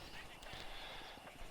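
A horse gallops in Red Dead Redemption, steady rapid hoofbeats beneath a dense wash of game noise, with a voice talking over it.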